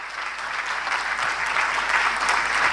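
Audience applause at an Ayurveda lecture, a dense, steady clatter of many hands clapping that holds at even loudness for nearly three seconds, with no voices over it.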